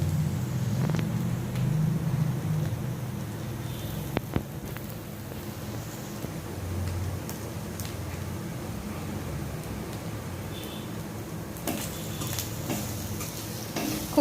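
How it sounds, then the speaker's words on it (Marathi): Onion and grated coconut sautéed in a pan for a Malvani black-pea curry, a faint, steady sizzle with occasional soft stirring scrapes and light clicks, no talking. "खोबरं घालून आपण व्यवस्थित परतून घ्यायचे आहे"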